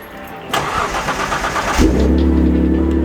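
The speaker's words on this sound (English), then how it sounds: "you got the GTO on the driveway, which is gonna have to move out of the way so my wrecked Skyline can go on" A Pontiac GTO parked on a home driveway cranks over with a whirring starter, then catches and settles into a loud, steady, deep idle right up close.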